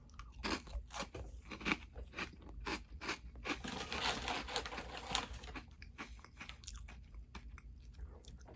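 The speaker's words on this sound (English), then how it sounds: "I'm going to be eating this with some baguette bites." Close, loud crunching as small toasted baguette bites topped with Sabra spicy guacamole are bitten and chewed, a rapid run of crisp crunches continuing throughout.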